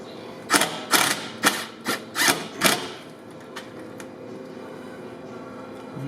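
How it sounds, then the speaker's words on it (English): A cable tie ratchets as it is pulled snug while a trailer plug wire is fastened on a 2010 Subaru Forester, giving six quick close zipping bursts over about two seconds, then quiet. "And I'll pull the cable fairly snug right there. Tighten it up."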